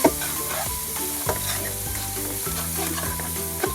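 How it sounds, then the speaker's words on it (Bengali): Onions sizzle as they fry in a pan for a prawn malaikari, with repeated scraping stirs at a steady rhythm over the continuous close frying hiss. "এখানে পেঁয়াজটা লাল লাল করে ভাজা হয়ে গেছে"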